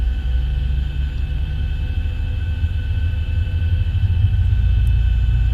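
Boeing 737 jet engine spooling up in the X-Plane 11 flight simulator, heard from the cabin as a steady low rumble with faint tonal whines that thicken and grow slightly louder toward the end.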